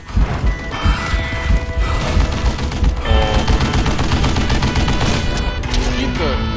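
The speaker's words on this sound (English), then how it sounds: "Kid Curry opened up on me with a goddamn Gatling gun" Rapid, continuous Gatling gun fire in the Western shooter Call of Juarez Gunslinger, a loud dense rattle of shots with crashing impacts and game sound effects throughout.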